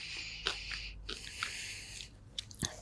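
Crunchy peanut butter Clark cup candy being chewed close to the mic, with soft crackling bites and wet mastication in short irregular bursts, no talking.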